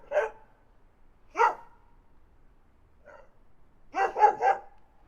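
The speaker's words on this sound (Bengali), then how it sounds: "ডগ, ডগকে বাংলায় বলে কুকুর।" A dog barks in separate bursts: a single bark, a second bark, a faint short yip, then a quick run of three barks close together, all clear against a quiet background.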